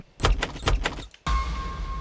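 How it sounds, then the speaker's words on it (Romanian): A small hatch-like door being opened with a burst of rattling and clicking, a brief pause, then a dull thump followed by a steady hiss. "Ia, acum ni s-a deschis ușița asta."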